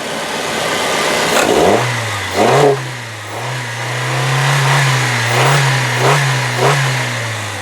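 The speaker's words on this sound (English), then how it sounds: "let's rev this thing up a little bit so you can hear how she sounds" A 2000 Saturn SC1 three-door's engine revs up in several short bursts over a steady idle, each rise quickly falling back, capped low by the rev limiter, loud and close with no talking.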